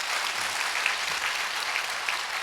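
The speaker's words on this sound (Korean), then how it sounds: "여러분 크게 박수 해주세요." A church congregation applauds at a dawn prayer service, a steady, dense clapping that fills the room for a couple of seconds with no speech over it.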